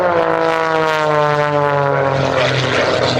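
Propeller stunt airplane flying at the 2012 RAFB air show, a loud sustained buzzing engine drone that holds close and steady throughout, with no voices heard.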